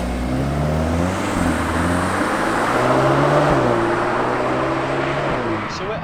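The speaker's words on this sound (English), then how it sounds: "let's jump in the car and go out for a drive" A 2021 Audi S3 Sportback driving off, with its engine rising in steady rising-pitch revs through gears, heard loud and close from inside the car, with a voice talking over it.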